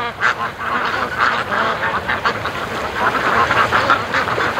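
A flock of ducks on a lake quacks steadily, many overlapping calls forming a dense, continuous chorus at moderate volume.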